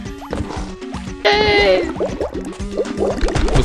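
Game character in BattleBlock Theater splashing into water, a bright burst of liquid splashing mid-clip among busy bubbly game sound effects and drips.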